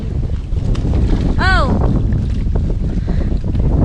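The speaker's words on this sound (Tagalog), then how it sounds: "mahangin na eh" Steady strong wind while fishing for tilapia outdoors buffets the microphone with a constant roar, a brief rising and falling tone cutting through midway.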